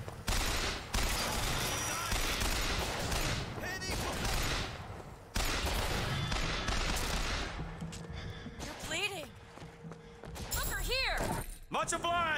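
Sniper rifle gunfire in Bioshock Infinite, sharp shots cracking through a dense, continuous wash of combat noise, with a voice speaking over the action.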